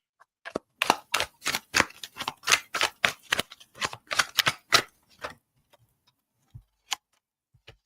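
Tarot cards being shuffled by hand, giving a quick run of crisp, evenly spaced slaps and riffles for about five seconds, followed by a few scattered soft taps in near silence.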